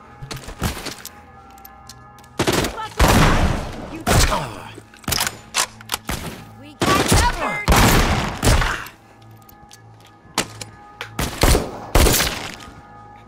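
Repeated bursts of gunfire in The Walking Dead: Saints and Sinners, sharp loud shots clustered in several volleys with brief gaps and mechanical clicks between them, with no talking.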